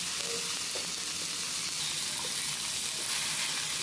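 Ginger-garlic paste with chopped tomato fries in a pan for a kantola vegetable dish, giving a dense, even sizzling hiss close by and steady throughout, with faint stirring touches and no talk.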